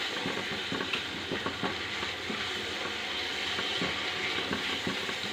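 Chana masala and spices fry and get stirred in a pan, giving a steady low sizzle with occasional scrapes and taps of the spoon, moderately quiet and continuous with no talking.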